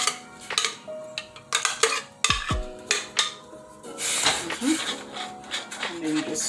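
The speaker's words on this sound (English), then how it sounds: "And then you just stir it up" A spoon stirs peanut porridge with oats and a cinnamon stick in a pot, giving steady close scraping and clinking against the metal in uneven strokes while a person talks.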